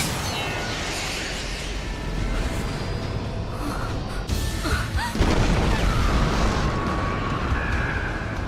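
In a dramatic Attack on Titan anime scene, explosives are forced into a Titan's mouth and go off, heard as a sustained, loud rumbling roar with a sharper burst partway through and a dense, thunderous tail.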